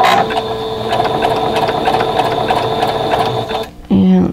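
Sewing machine running steadily at a 3.0 wide zigzag over batting, a continuous close mechanical whir with regular stitching pulses, stopping near the end as a short burst of other noise follows.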